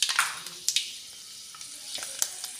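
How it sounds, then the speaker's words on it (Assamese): Panch phoron dropped into hot oil in a home kitchen, sizzling and crackling softly with a few sharp pops scattered across the short stretch. "এয়া তেল দিলোঁ মই, পাঁচফোৰণ দি দিছোঁ"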